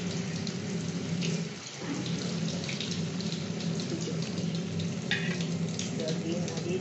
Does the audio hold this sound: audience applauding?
no